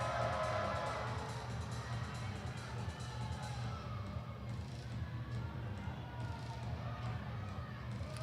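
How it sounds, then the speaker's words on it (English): At an indoor soccer match between the Empire Strykers and the Tacoma Stars, the arena crowd keeps up a steady roar of boos aimed at player Aguirre, loudest at the start and then holding at a dense, even level. "The crowd greeting Aguirre with some boos."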